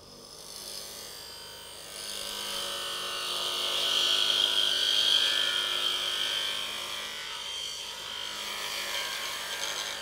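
Walnut blank being parted in half on a woodturning lathe at high speed, giving a steady scraping, rasping cut that swells louder in the middle and eases off, with no talking.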